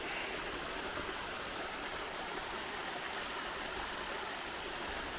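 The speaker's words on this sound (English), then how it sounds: "here we got a footbridge over a little stream here" A small forest stream flows beneath a footbridge on a shaded trail in the Joyce Kilmer Memorial Forest, giving a steady, even rush of water that stays constant throughout with no voices.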